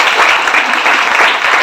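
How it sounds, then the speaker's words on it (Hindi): Loud, sustained applause breaks out at a lifestyle business sharing event, a dense roar of many hands clapping close by without letup. "एक बार दिल से जोरदार तालियां"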